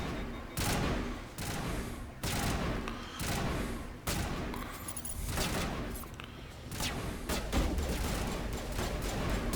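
Gunfire in the video game Mass Effect, with repeated loud volleys of shots and sustained firefights in bursts separated by brief lulls.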